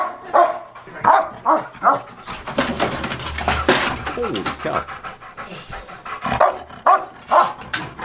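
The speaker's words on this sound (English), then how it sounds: "I'll try to get away from this dog." A dog pants rhythmically and close, breaking into a few barks and yips midway, while someone speaks over it.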